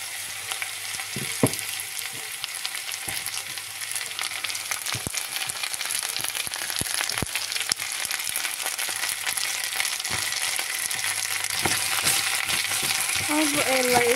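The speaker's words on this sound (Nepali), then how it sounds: "अब यसलाई यसरी चलाउने अलिअलि त भुटिनु पर्यो नि त आलु" Potatoes sizzle and fry steadily in a pan for home-style potato curry, with sharp scraping and clinking stirring strokes scattered throughout and no talking.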